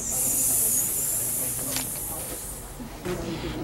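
Children imitate a hissing snake with a long, steady, breathy hiss that fades, then a second hiss starts after a short pause.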